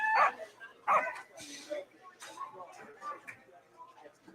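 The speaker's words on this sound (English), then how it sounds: "Does that deserve a dog bark?" A dog bark sound effect played during a seniors singles bowling tournament, with a couple of sharp barks near the start followed by softer yips, mixed with commentators talking.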